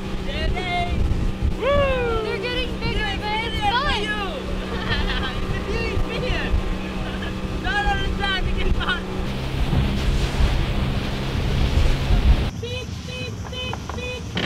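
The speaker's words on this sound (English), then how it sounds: "Let's ride the waves." A boat rides monsoon-season sea waves near Bako National Park in Sarawak, Malaysia, with a steady engine drone, wind buffeting and splashing under excited talk and shouting voices.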